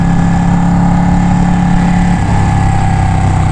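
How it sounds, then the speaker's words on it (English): Steady, loud idle from a Ducati Panigale 1199 superbike's engine and stock exhaust, a continuous low rumble with a mechanical hum held evenly for the whole stretch, nearby and alone. "This exhaust just sounds, it doesn't sound great, but it doesn't sound bad at the same time"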